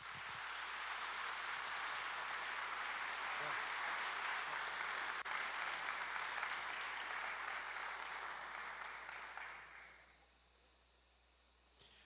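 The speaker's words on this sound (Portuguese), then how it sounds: "Salva de palmas" Congregation in a church service giving a sustained round of applause, a thick even roar of clapping for about ten seconds before it quickly dies away into quiet room hum.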